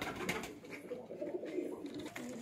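Pigeons on a rooftop coo steadily and up close, their low throaty burbling calls overlapping in a continuous, rolling murmur.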